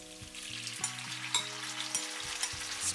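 Marinated pork dropped into hot oil with chopped garlic, giving a steady close sizzle with a few sharp crackles and stirring taps, quiet, under a soft background music tone.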